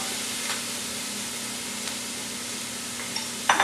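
Onions sautéing in a big pan, a steady even sizzle and hiss that runs throughout, with a couple of faint clinks and a sharper burst of frying at the very end.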